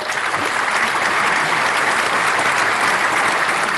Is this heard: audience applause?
yes